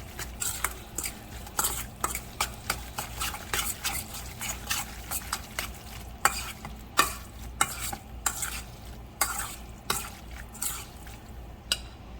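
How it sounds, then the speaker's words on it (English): A spoon stirs a seafood stuffing mixture of shrimp, lobster and crawfish in a bowl, with repeated wet scrapes and clacks in a steady rhythm, close and fairly quiet. "We're gonna mix all that up. Just stir it up."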